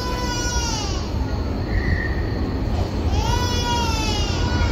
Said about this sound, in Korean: 다른 애기예요? 뭐가 마음에 안 들어서 우는 거겠지?